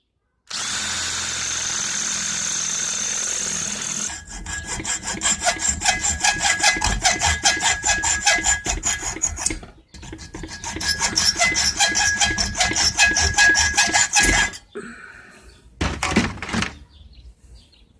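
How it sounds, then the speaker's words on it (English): A small piece of aluminum is cut to fit a plug cap in a Ford Granada AOD transmission valve body: two long runs of quick, rhythmic sawing strokes, close and crisp, then a few brief scraping file strokes. "Alright, a little cutting and a little filing, so it fits the plug cap perfectly."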